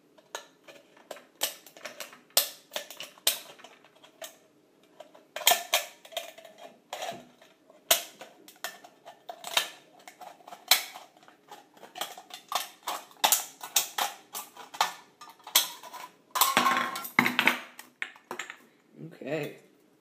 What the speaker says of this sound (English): I'm going to take my scissors, and I'm going to cut right around.